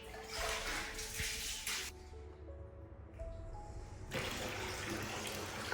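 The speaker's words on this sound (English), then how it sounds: "we put in some cold water" Cold tap water gushes steadily into a Japanese-style bathtub at an inn, a loud, close, continuous rush that briefly changes tone midway before surging again.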